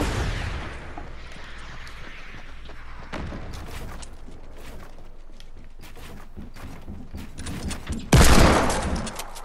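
Gunfire in the video game Fortnite: scattered sharp shots and short bursts throughout, with a loud heavy blast near the end.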